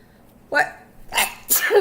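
A person sneezes twice in quick succession after a short sharp breath, close and loud.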